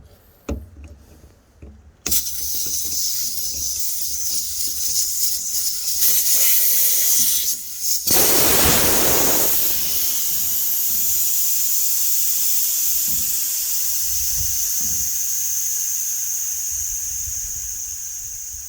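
Vehicle airbag suspension deflating: a loud, continuous hiss of escaping air starts abruptly and runs steadily, with a brief harsher burst early on, close by and without talk.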